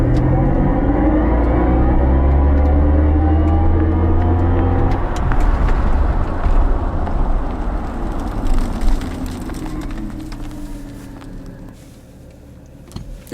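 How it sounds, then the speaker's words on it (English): A 2022 Mercedes-AMG EQS electric car accelerating hard on a track in race start mode, a loud rising electric whine with road and wind roar that gradually fades as the car pulls away. "Let's try another run in the AMG EQS. Race start mode engaged."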